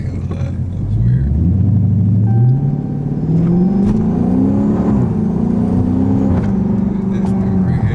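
A Dodge Scat Pack muscle car engine revs loudly and close by, climbing in pitch, dipping, then surging again into a sustained, throaty roar, with people's voices faintly underneath.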